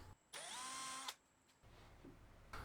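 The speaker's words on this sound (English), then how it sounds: "drill the holes using the actual hinges as a guide" A power drill bores hinge screw holes in a cherry cabinet door: one steady whirring burst of just under a second, a short pause, then a second burst starting, close and alone.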